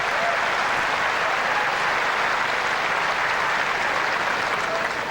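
Tennis crowd at the Australian Open applauding steadily and loudly, a dense continuous clapping wash sustained throughout with no talk.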